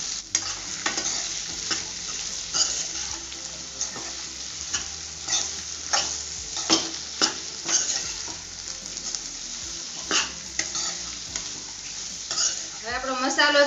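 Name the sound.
stirring vegetables and spices frying in a pan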